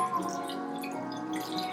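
Purified water from a Berkey filter pours steadily into a jar, a close, continuous trickling and splashing that lasts briefly without pause.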